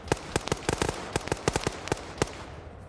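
Rapid bursts of gunfire in a military-style video game match, sharp cracking shots in quick irregular clusters, fairly close and loud, with no voices over them.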